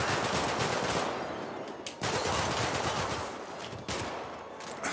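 Rapid machine pistol bursts fire in GTA 5, loud and dense, arriving as three back-to-back volleys with brief gaps between them and no talking.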